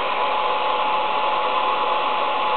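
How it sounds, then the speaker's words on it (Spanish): A hair dryer blows hot air onto a digital thermometer, a steady close whooshing hum with an even motor drone and no voices over it. "vamos a aplicarle calor con el secador de pelo."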